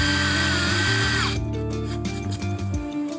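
Power drill countersinking a screw hole in a polycarbonate bending brake, a close steady whine with shifting pitch over about three seconds, running alone without talk.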